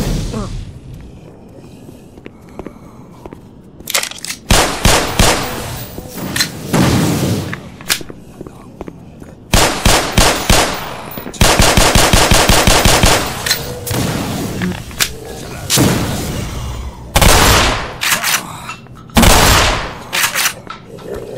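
Gunfire in the video game Black Mesa comes in loud, close bursts of rapid automatic fire and single shots, separated by short gaps of low ambience.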